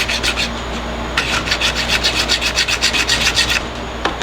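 A hacksaw cuts through the plastic housing of a slimline hair clipper, making quick, rhythmic rasping strokes close by that pause briefly and then speed up, loud and steady, with no talking.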